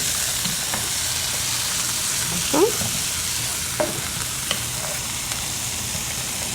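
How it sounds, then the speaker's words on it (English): Onion and garlic sautéing in a pan, a steady close sizzle hissing throughout, broken by a few soft scrapes and clinks of a utensil stirring, with no talking. "Now we just get that a little bit sauteed,"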